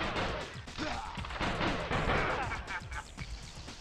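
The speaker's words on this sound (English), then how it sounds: "Somebody's shooting me up there." Gunfire from an enemy shooter up above in Spider-Man 2, a continuous dense barrage of loud, close bangs and crashes mixed with game action noise throughout.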